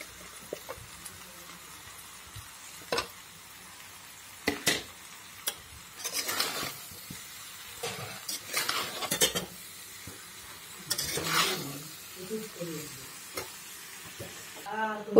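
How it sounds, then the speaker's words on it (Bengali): Jolpai pickle mixture stirred in a pan: a soft background sizzle broken by scattered scraping and clinking strokes of a utensil against the metal, some quick and sharp, others longer and smeared, close and fairly quiet. "এখন ভালো করে মিক্স করে নেব।"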